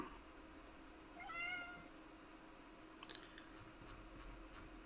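A domestic cat gives one short, faint meow partway through, over quiet room noise, with a few small rustles afterward.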